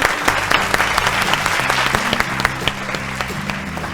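Studio audience applause on a family game show, a dense burst of close clapping sustained for several seconds without letting up.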